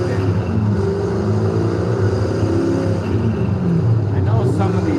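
A turbocharged Ford SVT Cobra engine in Forza Horizon 5 runs with a steady, loud droning hum throughout, with a faint rising whine near the end.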